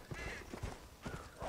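Horse hooves clip-clop at a steady walking rhythm in the Red Dead Redemption video game during a forest hunt, moderately close under a low ambient wash, with a faint whinny-like tone in the background.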